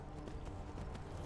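Steady hoof clip-clop from a horse at a quick, even pace in Skyrim, with continuous game background sound underneath.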